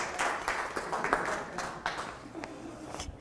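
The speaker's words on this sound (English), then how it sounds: "Let's give her a round of applause" Brief audience applause at an HR risk-management session: scattered, fairly sparse claps from a small group that fade within a few seconds.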